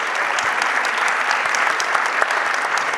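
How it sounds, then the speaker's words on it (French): Audience applause fills a hall at an opening-night roundtable of the Les Mycéliades 2025 festival: dense, steady clapping from a large crowd, loud and close throughout with no pause. "Je vous prie d'applaudir aussi Maudie, streameuse sur les sciences sociales et les jeux vidéo"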